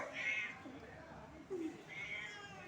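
A kitten meows repeatedly while playing alone, two or three short, close, clear cries spread across a few seconds, with faint background sounds between them.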